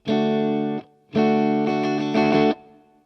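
An electric guitar with heavy effects strums a chord, pauses briefly, then strums again in a quick rhythmic pattern of several accented strokes.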